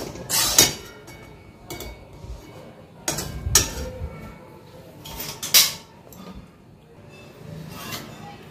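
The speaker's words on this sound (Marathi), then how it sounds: "सोनेरी कलर येईपर्यंत आपण रवा भाजून घ्यायचा" Semolina dry-roasting in a pan for karanji, a quiet scratchy stir under a few sharp metallic clanks of a spoon striking the pan, spaced several seconds apart.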